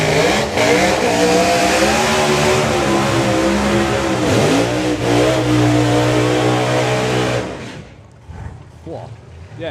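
A drag racing car at the start line at Santa Pod Raceway, its engine revving hard and loud in a sustained roar that climbs unevenly, with voices talking over it before the noise drops away near the end.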